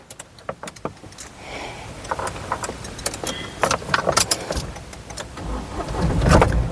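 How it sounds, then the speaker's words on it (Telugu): A 2017 Mahindra Bolero SLE is started on a single crank: clicks and rattling key or switch sounds come first, then the engine turns over and catches into a louder rumble at the end, close by and without speech. "ఒకసారి ఈ కారు సింగిల్ సెల్ఫ్లో స్టార్ట్ అవుతుందా లేదా అన్న చూపిస్తున్నాను చూడొచ్చండి"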